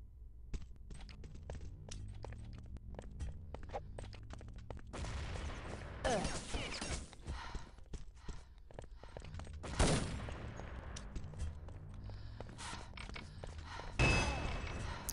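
Dense bursts of gunfire and a loud grenade blast rattle through a competitive online shooter match at a national team tournament semifinal, rapid volleys interspersed with heavy booms around the middle and end, with faint footsteps between.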